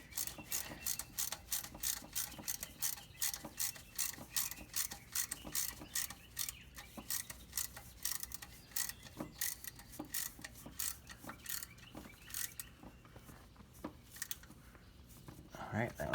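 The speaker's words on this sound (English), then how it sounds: "I like to tighten that one about halfway, and then I go to the back side and tighten it down all the way." A hand ratchet clicks in quick, repeated bursts while a spark plug is tightened on a 1998 Porsche Boxster, the strokes close and steady, slowing and pausing toward the end.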